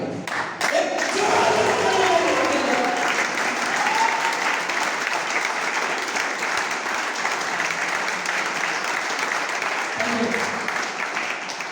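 Audience at a business gathering breaks into sustained applause, dense clapping from many hands that holds steady and loud for several seconds before easing slightly.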